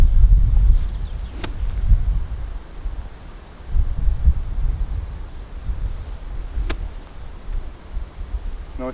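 Gusty wind buffeting the microphone on an outdoor golf course, low rumbling roar that swells and fades in gusts, with two faint sharp ticks along the way.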